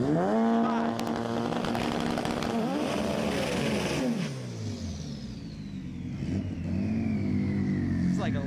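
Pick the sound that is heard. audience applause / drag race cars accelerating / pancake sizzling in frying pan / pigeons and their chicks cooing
drag race cars accelerating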